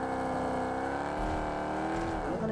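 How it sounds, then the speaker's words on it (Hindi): A vehicle driving in a battle royale video game, with a steady, loud, close engine drone and a slight rise and shift in pitch as it turns near the end. "अब लेफ्ट साइड से मैं गाड़ी घुमा रहा था"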